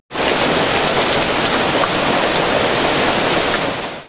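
Heavy rain and hail pouring down in Elazığ, a loud, dense, unbroken hiss of downpour that holds steady from start to finish.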